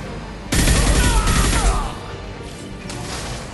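A burst of heavy gunfire erupts in the sci-fi shooter Mass Effect 2, a loud rapid fusillade that slams in abruptly, rattles for over a second, then gives way to lighter scattered shots.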